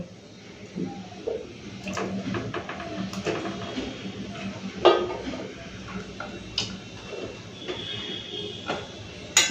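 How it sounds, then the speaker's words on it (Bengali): Okra and potatoes tipped into a cooking pan in a home kitchen, with scattered clinks and taps of utensils against metal cookware, light knocks and clatter spread irregularly over several seconds, fairly close. "তো এখন এইগুলো সব দিয়ে দেবো, ভেন্ডি আর আলু।"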